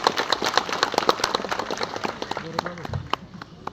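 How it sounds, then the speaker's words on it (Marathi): A crowd of supporters claps at an election campaign launch in Nashik ward 8, the close, dense applause running steadily for several seconds with voices mixed in and a few louder claps near the end. "त्या सर्वांसाठी आपण स्वतःसाठी टाळ्या वाजवलं पाहिजे"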